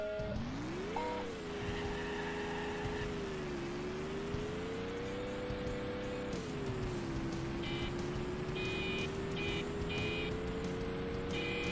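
Horn-like electronic beeps sound in bursts over a steady rising and falling engine whine from a Nissan car in a racing video game, with music and engine tones continuous throughout.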